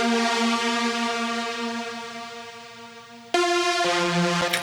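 A bright, clean synth lead sustains a long held note, then shifts to higher notes, steady and prominent with no talking.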